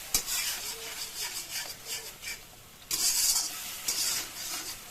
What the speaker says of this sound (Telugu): పచ్చి వాసన పోయేదాకా దాన్ని మంచిగా తిప్పుకుంటూ ఉండాలి.